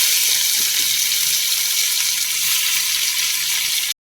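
Cabbage frying in a pan with onion and green chilli, giving a loud, steady broadband sizzle that runs unbroken and close, cutting off abruptly at the very end.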